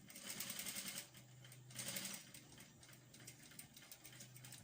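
A sewing machine stitches tutu fabric, first back stitching and then sewing straight, a fast close mechanical rattle in two bursts with a brief pause and lighter running between.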